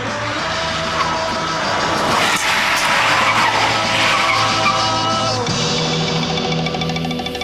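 A 1965 Ford Anglia brakes hard from 70 mph, its tyres skidding and squealing loudly and continuously for several seconds as the car screeches to a stop.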